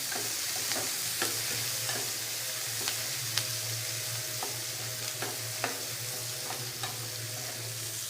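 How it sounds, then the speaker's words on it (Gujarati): Onions sauté in oil over a low flame, giving a soft, continuous sizzle with occasional light taps and scrapes of a spoon stirring the pan. "ડુંગળીને થોડી સાતળી લઈશું"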